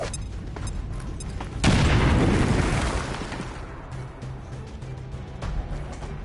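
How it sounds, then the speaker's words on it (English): An explosive charge blows up a wall in XCOM 2, a sudden heavy boom that bursts in after a short stretch of game ambience, then rumbles and debris-like noise slowly fade, with no talk. "they are not as lethal as firearms, but can damage multiple units and destroy cover and walls. So, let's blow up a wall."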